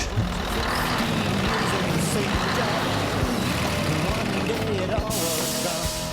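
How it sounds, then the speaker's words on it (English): A short-stroke V8 truck engine runs steadily close by with a continuous low, throbbing rumble, on a truck fitted with disc brakes all round and a tag axle. "They call it a short stroke V8, so it really sounds nice because you can hear pretty much cylinder for cylinder."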